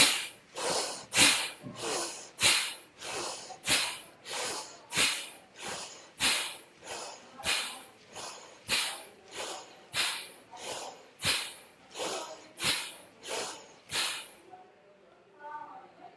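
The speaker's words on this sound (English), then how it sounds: "And now let's do the second round of breathing." Deep, forceful breaths repeat in a steady rhythm during a guided meditation breathing round, roughly one sharp rushing exhale per second, loud and close, ending abruptly into quiet.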